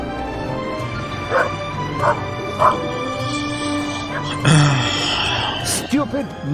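A dog barks several times and whimpers in The Raven video game on Xbox Series S, with short yips spaced across a steady background and a voice speaking over the end.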